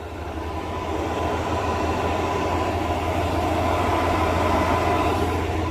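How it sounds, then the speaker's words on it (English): A steady, loud whirring drone of a Tesla Model 3 Performance's cooling fans while charging at night, running continuously, swelling slightly after the first second, with no talking. "Can you hear that fan going to keep this cool?"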